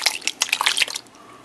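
Canned diced tomatoes with green peppers and onions pour into a pot, a wet splashing glug lasting about a second before trailing off into quiet.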